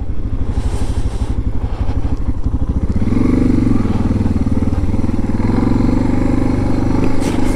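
A KTM 390 Adventure motorcycle rolls over potholes and bumps, its engine chugging steadily and loudly up close while the suspension thumps faintly beneath.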